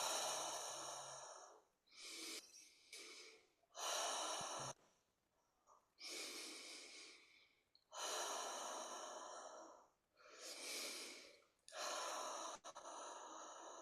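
Deep, slow breathing during a guided breathing exercise, long airy inhales and exhales in a steady rhythm separated by short pauses, close and clear with no speech.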